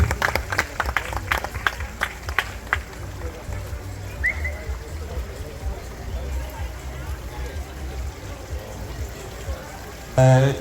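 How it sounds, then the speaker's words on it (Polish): At a swimming competition, spectators clap for the judges. A few loud claps come first, then the clapping fades into echoing ambient noise at the pool, and a brief loud burst arrives at the end. "Brawa dla e, wszystkich sędziów."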